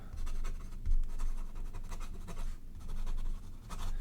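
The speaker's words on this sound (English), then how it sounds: "Really smooth. I'm writing really fast too." A Lamy Safari fountain pen writes quickly on paper, a soft, close scratching of rapid strokes in short bursts with tiny pauses between words.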